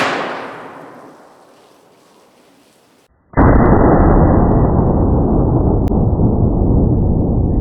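A .50 caliber rifle firing a 750 grain AMAX bullet into a 55 gallon drum full of water: a fading rumble dies to near silence, then a sudden loud, sustained roaring blast fills the rest, close and alone.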